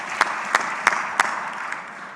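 Applause from an audience at an Ag Day ceremony honoring FFA and 4-H representatives, a brief, moderately loud wash of clapping with a few sharper claps standing out, no talking over it.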